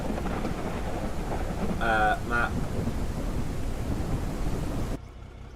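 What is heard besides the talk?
thunderstorm with thunder and rain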